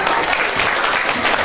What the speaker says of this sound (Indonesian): Kita kasih tepuk tangan buat kita semua.